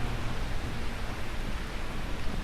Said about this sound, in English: This is a very hot rain.